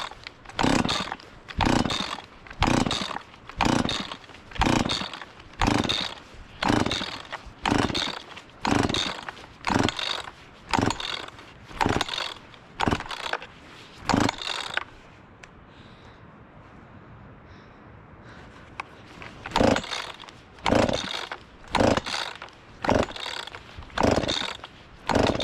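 Chainsaw that will not fire after the choke is set: a long run of rhythmic pull-cord rips, each a sharp ratcheting burst, pausing briefly midway then resuming, with no engine catching.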